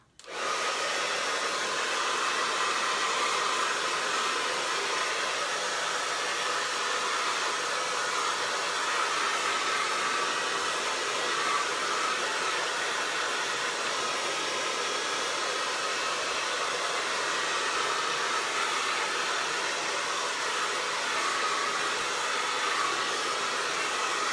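A hair dryer blows steadily over a freshly base-coated bluebonnet and grass painting, a loud, continuous whooshing roar that starts abruptly and holds without a break.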